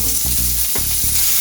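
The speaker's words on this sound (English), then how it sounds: "we're gonna drop our pork belly right on here, get it nice and crispy" Pork belly sizzling loudly on a hot griddle for tacos, a dense close crackle with a brief scrape partway through.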